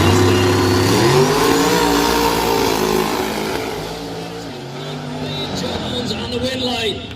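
A 1989 Mustang drag car launches and accelerates hard down the drag strip at Galot Motorsports Park, its engine note climbing steadily and then fading with distance while an announcer talks over it.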